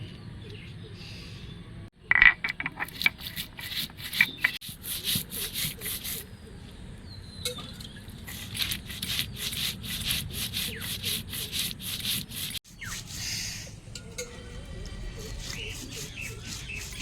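Green chillies and mustard seeds being ground into a spice paste on a grinding stone, a close, rhythmic rough rubbing that comes in bursts with short breaks.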